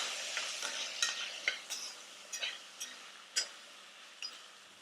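Broccoli stalks sautéing in a pan give a faint, close sizzle broken by light, irregular taps and scrapes of a utensil every half second or so, quiet and without speech.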